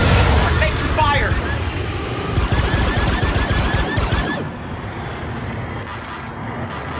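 Video game gunfire in Star Wars Outlaws: dense, rapid blaster-like volleys rattle loudly for about four seconds, mixed with game effects and shouting voices, then cut to quieter background ambience.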